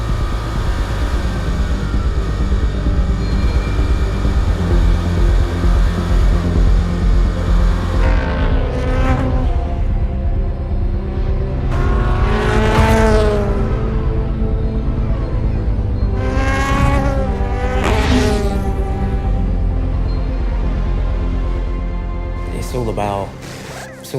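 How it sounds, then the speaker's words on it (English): The number 7 Toyota race car pulls out of the pit lane with a loud, sustained engine howl. Several rising and falling pitch sweeps follow as cars rush past close by. "Down to the pit lane, the number 7 Toyota begins its race."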